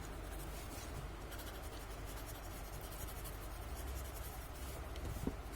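Graphite pencil shading on paper with a gentle hand, a faint steady soft scratching and rubbing that continues without pause, close and quiet.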